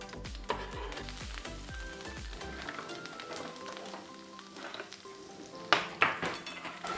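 Garlic clove and parsley dropped into hot oil for an octopus dish, a bright sizzle with clinks of a pan and utensil, a sharp burst of crackling near the end.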